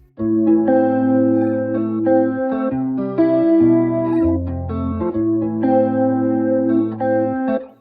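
Sustained electric guitar chords played with a swirling flanger effect and EQ, bright and smooth, moving through a slow progression with no voices.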